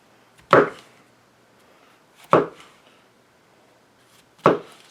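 Thick slices of mushroom being cut with a knife on a board, three separate sharp chops spaced about two seconds apart, close and distinct against a quiet background.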